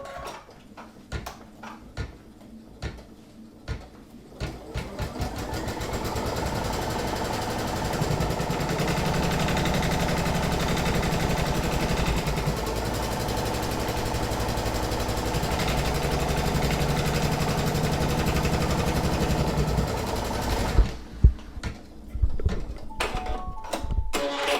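An embroidery machine stitches a placement line on tearaway stabilizer, a steady rapid mechanical whirr running for about fifteen seconds, framed by softer clicks and handling noises before and after.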